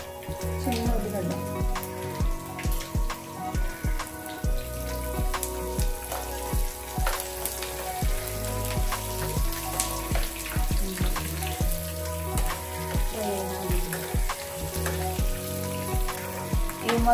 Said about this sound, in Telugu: ఇవి మొత్తం బాగా ఫ్రై అవ్వాలన్నమాట. ఉల్లిగడ్డ బాగా వేగాలి.